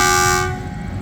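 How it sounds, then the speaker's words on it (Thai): A loud, sustained horn from the departing State Railway of Thailand train 313 at Bang Sue blares for about half a second and then cuts off, leaving a low rumble of rail noise. "เสียงหวีดมาแล้ว"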